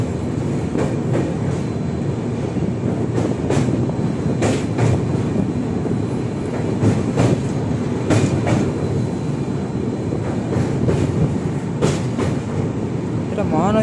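A passenger train rolls along the rails near Kolaghat toward Santragachi, Kolkata, with a steady, loud rumble and repeated clicks and knocks from the wheels. The sound is close and continuous, with no talk.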